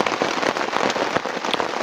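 Heavy rain drums steadily on a tent or tarp at a rainy, foggy campsite, a dense continuous patter with sharper close drops hitting throughout.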